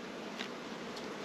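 Honeybees hum in a hive during an inspection, a dense, steady, close buzzing drone that fills the short moment with no voices.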